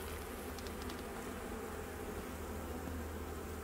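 Honey bees hum in a dense, continuous drone during a hive inspection, steady and close with no talk over it.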